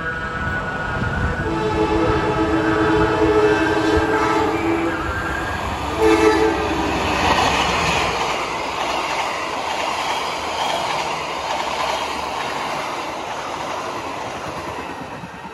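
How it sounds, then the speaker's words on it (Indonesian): A train rumbles past a shelter at Ngagel, Surabaya, a continuous loud roar with a horn-like tonal blast early on before the rumble eases into steadier, duller noise. "Kayaknya ada kereta api yang melintas lagi."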